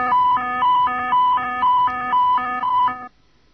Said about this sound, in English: Takeoff configuration warning consists of activation of the warning siren